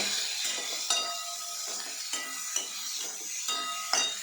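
Onion and garlic paste sizzling and frying in a pan, a steady close hiss broken by regular scraping stirs of a utensil every half second or so.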